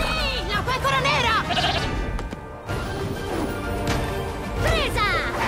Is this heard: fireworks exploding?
no